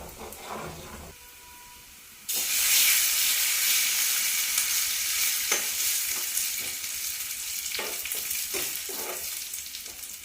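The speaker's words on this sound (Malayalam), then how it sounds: "തിളച്ച് പൊട്ടരുത് അതുകൊണ്ടാണ് നമ്മൾ ഇടയ്ക്കിടയ്ക്ക് ഇളക്കി കൊടുക്കുന്നത്" Taro leaf curry (thaal curry) heating in a pan: a spoon stirs it now and then, and a loud, steady sizzle and bubbling starts abruptly and continues under scraping strokes.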